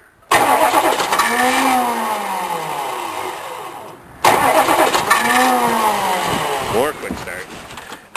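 A Chevrolet K3500 pickup's engine cranks from cold, worn starter teeth grinding against the flywheel, in two loud, sustained starter runs separated by a brief pause, with the engine failing to catch.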